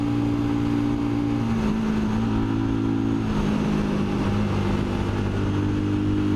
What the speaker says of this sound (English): It's a Royal Enfield single, so it doesn't rev particularly high.